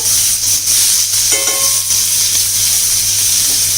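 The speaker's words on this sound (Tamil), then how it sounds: "இப்போ நம்ம கட் பண்ணி வச்சுருக்க வெங்காயத்தை நல்லா இதில் போட்டு சீசன் பண்ண போகிறோம்" Chopped onion sizzling loudly in a cast iron pan during seasoning, a dense, steady hiss of frying close up with one brief scrape partway through.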